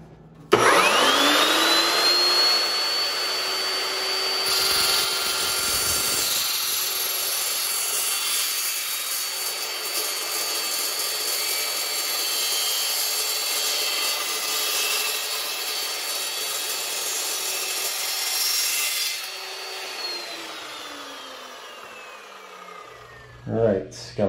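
A power saw spins up and cuts through a pipe during a bathroom remodel, a loud steady whine with grinding texture that holds for about twenty seconds before winding down, followed by a couple of knocks.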